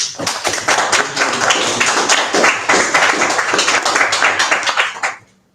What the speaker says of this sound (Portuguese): vamos aplaudir, pessoal